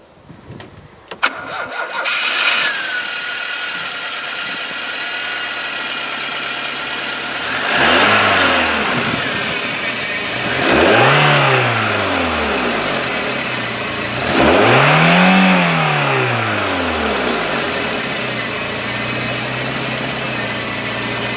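A Lancia Delta HF Integrale with a Garrett T3 turbocharged engine cranks and fires up, settles into a steady idle, then is revved three times in rising and falling swells, loud and close with no talking.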